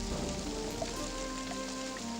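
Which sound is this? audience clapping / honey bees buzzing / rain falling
rain falling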